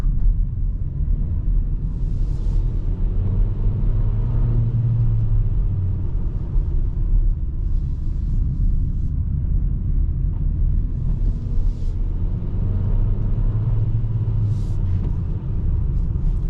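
A 2025 Geely Starray SUV with a 1.5-litre 174 hp petrol engine drives at night, its interior cabin filled with a steady low road and engine rumble and no talk.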